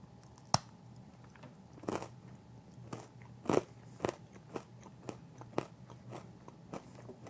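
Salted dark chocolate pretzel is bitten and chewed up close, with sharp crunching snaps followed by irregular, quieter crackly chews spread over several seconds.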